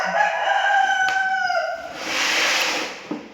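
A rooster crows once with a long drawn call at a morning market, followed by a softer wash of background noise and a faint cluck at the end.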